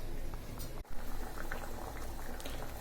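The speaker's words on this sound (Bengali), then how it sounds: "ডাল একদম ফুটে গেছে" Dal (lentils) bubbling vigorously in a cooking pot, a steady dense boil that runs continuously from start to end, with only a momentary dip partway through.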